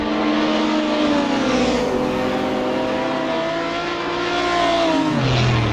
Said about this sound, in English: it's got a Chevy V8 underneath it, and it certainly rumbles louder than the rest